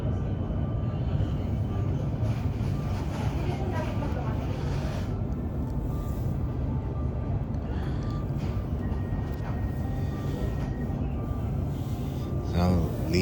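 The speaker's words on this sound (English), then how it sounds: "I'll leave you to enjoy the rest of the train trip." A suburban train passes Glen Huntly station, with a steady low rumble of wheels on rails and a cabin hum heard from inside, a constant drone with occasional faint rattles.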